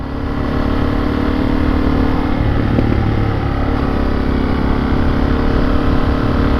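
A dual-sport motorcycle engine, a carbureted DRZ400S or a fuel-injected CRF300L Rally, drones steadily while riding on the street, with a mid-frequency hum and a brief rise in revs, loud and close throughout.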